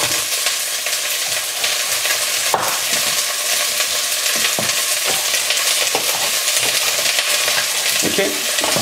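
Green and red bell peppers sizzle and crackle in a hot pan while being stirred, a loud, steady frying hiss with scraping stir strokes, close and without talk.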